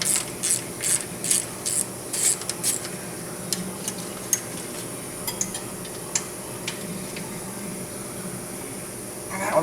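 A homemade long Allen wrench with a socket on its end turns a bolt on the oil cooler cover of a 2010 Volvo D13 engine, giving quiet scraping and ratcheting clicks, busiest near the start, then sparse taps.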